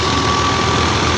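A tractor engine runs beside a grain thresher, a loud, steady, low mechanical drone with a faint whine, continuous and close, with no voices.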